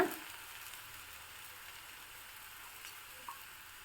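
A bottle gourd batter sheet cooks in oil on a pan for a quick breakfast, giving a steady, fine crackling sizzle that runs evenly from start to end, close and moderately quiet, with no voices.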